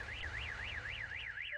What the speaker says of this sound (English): Those are the car alarms.